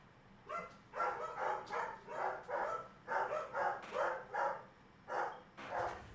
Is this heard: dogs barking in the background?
yes